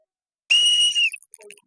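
A referee-style whistle gives one loud, sustained shrill blast at the start of a blindfolded balloon-popping game, followed by a few short chirps and faint trailing noise.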